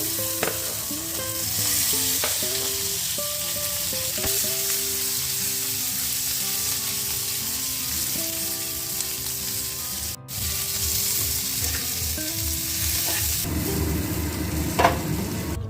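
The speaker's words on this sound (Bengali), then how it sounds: "তাওয়া গরম হয়ে গেছে দিয়ে দেবো সামান্য ঘি দিয়ে দেবো আলুগুলো" Potatoes fry in ghee on a hot tawa with a constant, close sizzle that holds steady throughout. A brief dropout comes midway, then a brighter burst of hiss near the end.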